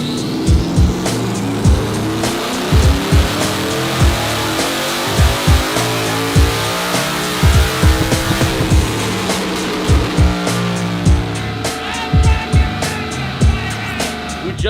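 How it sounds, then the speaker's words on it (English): A twin-turbo mini V8 in a Ford Raptor runs hard on a dyno, a loud continuous engine roar with rising and falling tones and repeated sharp pops and bangs throughout, close up with no talk. "So we're gonna run another dyno run real quick and see how she runs."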